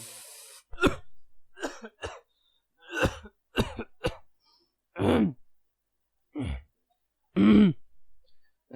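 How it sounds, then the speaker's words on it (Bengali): A voice acts out harsh coughing after a pull on a cigar: a close, loud series of coughs and throat clearing in separate bursts with silent gaps between. "ভদ্রলোক চুরুটে টান দিয়ে আবার ঘর কাঁপিয়ে কাশতে লাগলেন"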